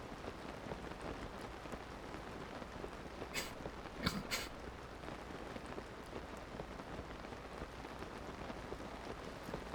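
Steady rainfall in Zelda: Tears of the Kingdom, a soft, even hiss of rain continuing throughout, with a few brief faint ticks and a low rumble partway through.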